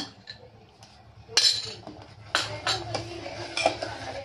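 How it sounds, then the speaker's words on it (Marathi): Almond paste tipped into a pot of milk while making a homemade almond shake, with a few clinks and scrapes of a spoon against the metal pot, close and fairly quiet, no talking. "बदामाची जी पेस्ट करून घेतली होती ती आपण आता ह्या दुधामध्ये आपण टाकून घेऊया"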